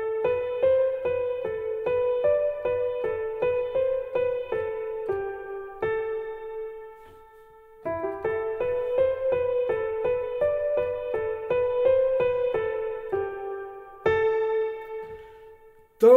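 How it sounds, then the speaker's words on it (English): A simple piano melody of single sustained notes plays alone, close and clear, in two similar phrases separated by a brief pause, each note ringing and decaying into the next. "So for this tutorial I made a little piano melody"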